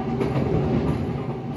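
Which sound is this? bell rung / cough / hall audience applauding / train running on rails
train running on rails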